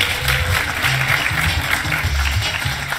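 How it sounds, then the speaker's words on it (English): Steady applause from an audience, a continuous patter of clapping at moderate volume with no voices over it. "Give her a round of applause, everyone."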